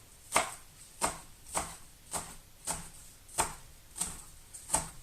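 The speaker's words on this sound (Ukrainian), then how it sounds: "Так, тоді цибулинку. Ось отаку беремо. Так само нарізаємо." A knife cuts an onion on a board for a sardine salad, making nine evenly spaced crisp chops up close at a steady, unhurried rhythm, with no talk.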